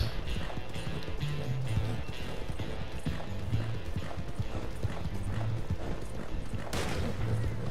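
Horse hooves galloping in the Red Dead Online video game, a steady rapid clip-clop rhythm close and fairly loud over low background music, with a brief rising whoosh near the end.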